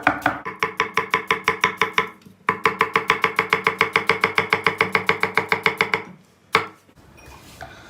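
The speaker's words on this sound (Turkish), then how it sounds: "Çok ufak doğramamıza gerek yok." Knife chopping vegetables on a cutting board for a baked eggplant dish, a fast, steady run of crisp close strokes that pauses briefly, resumes, then stops, with one final knock.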